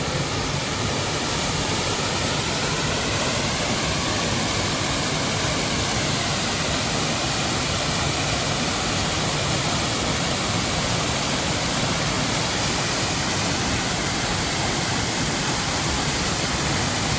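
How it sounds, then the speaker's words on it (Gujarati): Badva waterfall, a year-round fall with clear water over rocky ground near Netrang, Bharuch, roars as a loud, unbroken rush of falling water. "અને હું તમને સામેની સાઈડથી આખો ધોધ બતાવું."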